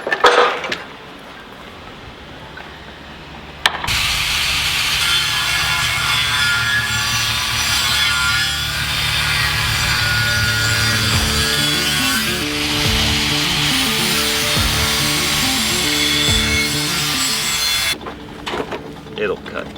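A power tool cuts out a stainless steel fitting on a boat hull, a loud steady rasping saw-like grind that runs for about fourteen seconds before cutting off abruptly.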